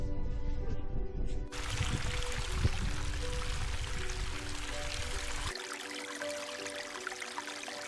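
Hot sulphur spring water pours and gushes steadily into a cold river on the Fish River Canyon trail, a close, continuous rushing flow with no talking.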